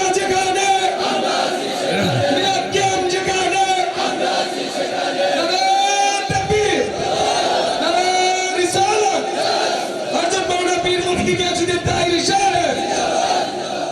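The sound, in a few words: crowd shouting takbir in response to the preacher's call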